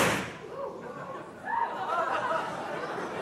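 Alcohol vapor inside a bottle ignited by a spark jumping between two screws, giving a sharp, loud burst at the start that fades quickly, followed by people chattering and laughing.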